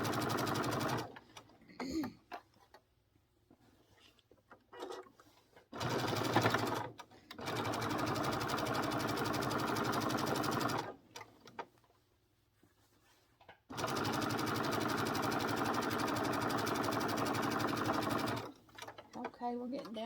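A sewing machine stitching an apron runs in several bursts of steady mechanical whirring, a few seconds each, separated by pauses where a person talks quietly.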